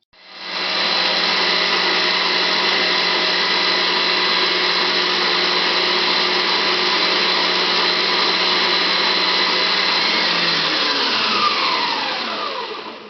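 A food processor whips meringue for marshmallow-style zefir, sugar added while the bowl spins: a steady, loud motor whine runs unbroken for about twelve seconds, then winds down near the end as the machine stops.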